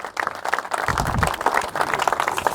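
Audience applause at a gathering in Hanumangarh welcoming Rana Mohammad Akram, a steady patter of many hands clapping at moderate volume for a few seconds with no voices over it.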